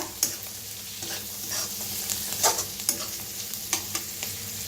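Red chili powder, turmeric and green chilies roast in a pan with a soft, continuous sizzle. Scattered light scraping and tapping from stirring rise above the sizzle, with no voices.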